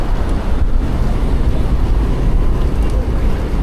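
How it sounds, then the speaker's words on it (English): Strong wind buffets a microphone while cycling, a steady loud rumbling roar that fills the whole clip without letup. "Oh my God, the wind."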